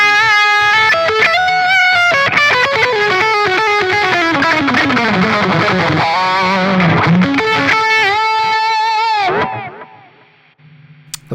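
Electric guitar played through the Squeak setting of a Zoom MS-100BT multi-effects pedal: a distorted, effects-heavy run of sustained notes and bends, loud and continuous, then a sudden cut-off into near silence.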